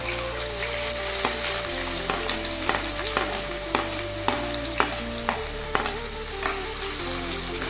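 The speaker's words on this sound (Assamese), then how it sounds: "পিয়াজখিনি ব্ৰাউন নোহোৱালৈকে ভাজিব" Chopped onions and dried chillies fry in hot oil with a steady, close sizzle, punctuated by regular scrapes and taps of stirring, and no talking.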